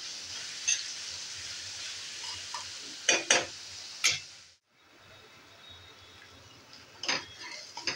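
Onion fries with masala in a pan for paneer bhurji: a soft, low sizzle with occasional sharp clinks and scrapes of a spoon against the pan, one brief pause partway through.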